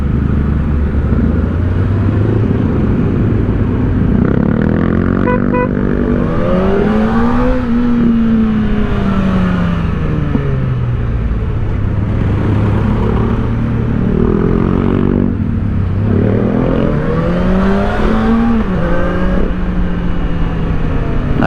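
Kawasaki Ninja ZX-4RR motorcycle exhaust while riding through light city traffic in Lapu-Lapu, a steady close engine drone with rising and falling pitch as the rider accelerates and eases off, continuous throughout.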